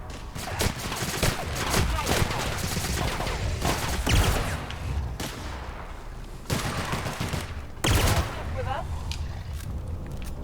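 Energy pistol fire in The Outer Worlds video game, repeated zapping shots amid dense combat noise and other weapons, with voices chattering throughout.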